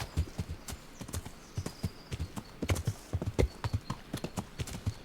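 Sharp, close hoofbeats of a horse galloping in the medieval game Kingdom Come: Deliverance, quick irregular thuds in bursts, loud and clear with no talking.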